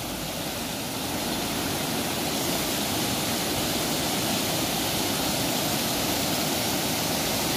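Foaming monsoon floodwater rushes hard over stones in a swollen stream in heavy Konkan rain near Kankavli, Sindhudurg, a loud, steady, close roar that holds unbroken throughout with no voices.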